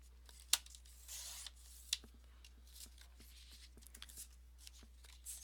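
Paper sheets for a trifold folio are being cut and handled in a quiet room, with a few sharp slicing or tearing bursts and soft rustling and small taps in between; no talking.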